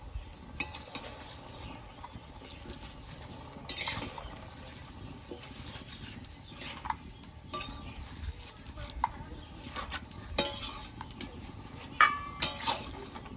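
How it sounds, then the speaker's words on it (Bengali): Pumpkin greens being stirred with salt in a pan, giving scattered soft scrapes and clinks of utensil against metal at a low, quiet level, without voices. "লবণ দিয়ে দিয়েছি এবার একটু নেড়ে চেড়ে নেব"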